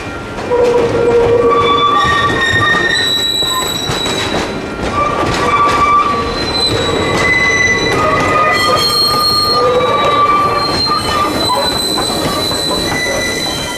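Great Smoky Mountains Railroad locomotive 1702 being towed along the line toward Dillsboro, its wheels squealing loudly in shifting high-pitched tones over a continuous rumble of rolling rail cars, close and sustained throughout.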